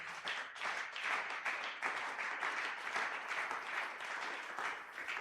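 A church congregation at a Sunday worship service applauds for Jesus, with dense, sustained clapping that fills the whole stretch at an even, loud level.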